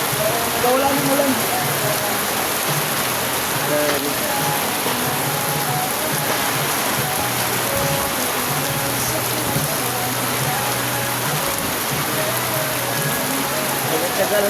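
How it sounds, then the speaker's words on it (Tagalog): Heavy monsoon rain pours down steadily during a typhoon, a dense, constant hiss with drops drumming on surfaces, while faint voices murmur underneath. "grabe ulan talaga lakas"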